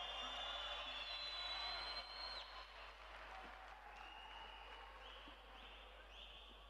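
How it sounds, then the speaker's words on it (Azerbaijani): Faint, distant applause from a boxing crowd at a WSB quarter-final between Magomedau and Charnabayeu, a steady wash of clapping that eases slightly partway through, with thin whistle-like tones above it. "alqışlarınız gəlsin hər iki boksçuya"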